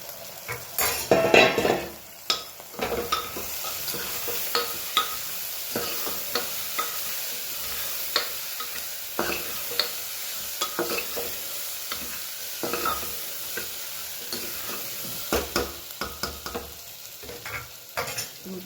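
Cluster beans (guar) fry in a pan with a steady sizzle while a utensil stirs and scrapes against the metal in repeated clinks and knocks, close and without talk.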